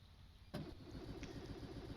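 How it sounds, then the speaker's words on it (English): Ship engines start up on a vessel, a sudden onset of low mechanical rumble that settles into a steady running drone, fairly close and without talk. "So I can now hear these engines starting."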